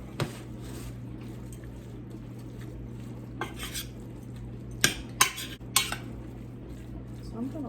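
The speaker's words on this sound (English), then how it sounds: "And mix this all up and we'll see what we've got here." A utensil scrapes and clanks against a pan while shredded chicken taco filling is stirred, with a few sharper knocks over a low steady hum and faint sizzle, close by.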